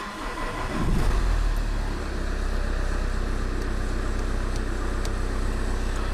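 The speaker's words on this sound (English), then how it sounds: "So I'm going to turn on the engine." An Opel/Vauxhall Insignia diesel engine cranks and catches, then settles into a steady, low idle that runs evenly and close by with no other sounds.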